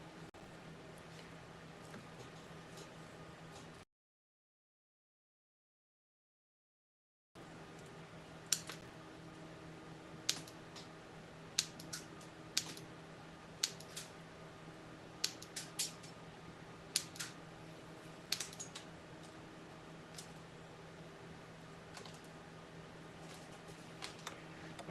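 Pre-stripped wires for a 5-channel amplifier harness being snipped to length: a run of sharp, separate clicks spaced a second or so apart over a steady fan-like hum, after a short stretch of silence.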